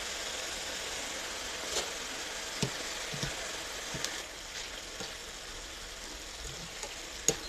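Soft steady sizzle of boondi drops frying in hot oil, with a few faint clicks and pops scattered through.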